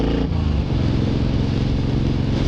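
Suzuki M109R motorcycle engine revving while being ridden, a steady, loud, deep throbbing drone with layered harmonics and a brief dip near the start, running continuously with no talking.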